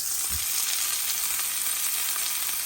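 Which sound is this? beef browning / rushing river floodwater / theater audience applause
beef browning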